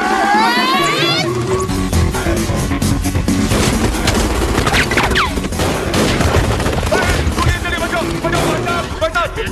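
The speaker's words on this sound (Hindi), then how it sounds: "गोलियां कौन चला रहा है?" A dense burst of loud gunfire and crashing booms in a Bollywood movie fills the whole stretch, continuous and chaotic like a battle scene, with voices mixed in.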